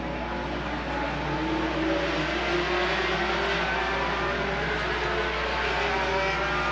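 Late model race cars roar away at the green flag of a 1985 twin-30 A main on the Sandusky Speedway oval, a dense, steady wall of engine drone that holds loud and unbroken throughout with no talk over it.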